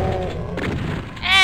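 Shotgun fire in the video game Brutal Doom: a single heavy, booming blast up close that decays, followed by a sharper burst at the end.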